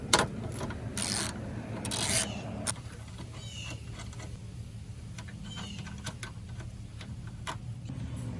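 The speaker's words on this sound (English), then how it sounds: "Now with the 10mm socket, you can take these two nuts off the side of the headlamp." A 10mm socket ratchet backs the side nuts off a headlamp on a first-generation Toyota, a steady run of small, close clicks and ticks after some louder handling knocks at the start.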